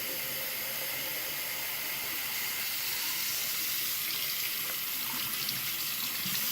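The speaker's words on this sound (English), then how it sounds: "That's a better stream than it had when I first put it in the sink." Water pours in a steady, hissing stream from a freshly repaired sink faucet, close and unbroken the whole time, with no talk.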